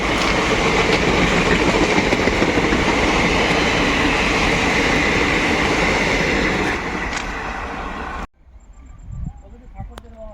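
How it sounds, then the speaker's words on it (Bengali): The Lalgola–Sealdah passenger train runs past a railway level crossing near Murshidabad at night, a loud sustained rumble and rattle of wheels on rails that fades abruptly, leaving quiet background noise and a faint tone. "লালগোলা শিয়ালদা প্যাসেঞ্জার কুর্মিতলা রেলগেট পার করে মুর্শিদাবাদ রেল স্টেশনের উদ্দেশ্যে"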